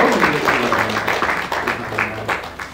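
A church congregation at a Sunday worship service applauds to welcome a visiting family, a continuous crowd clapping wash that holds throughout.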